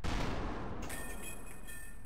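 An ACF tank cannon in Garry's Mod fires at a target: a loud blast opens, then a rumbling decay fades into a quieter ringing tail, with no talking.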